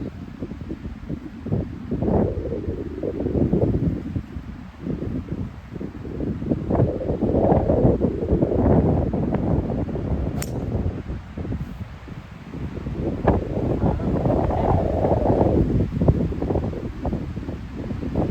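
Strong gusty wind roars across an open golf course on a day of 30 mph winds, steady low rumbling buffeting the microphone throughout with surging peaks and no speech.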